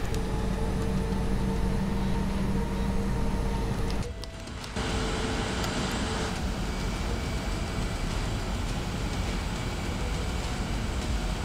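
Airbus A320 jet engines in a flight simulator, a steady broadband roar with a constant hum that briefly dips before resuming, heard alone without talk.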